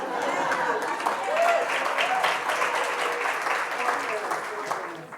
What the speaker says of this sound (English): Better applause than I generally get from the cadets